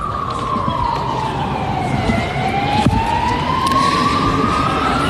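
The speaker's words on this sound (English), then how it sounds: "You can hear all the sirens" Emergency vehicle sirens wailing near the Basin Reserve cricket ground during a women's one-day international, a loud continuous rising and falling tone over steady traffic noise.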